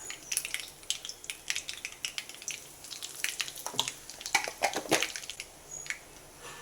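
Mustard seeds splutter in hot oil with rapid, irregular pops and crackles over a soft sizzle, close and fairly quiet, cooking for a brinjal curry.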